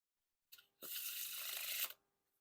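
A quick flutter of Waves First Edition playing cards by 52Kards, followed by a smooth, sustained riffling sweep as the deck is fanned face-up, lasting about a second, close and crisp with no talking.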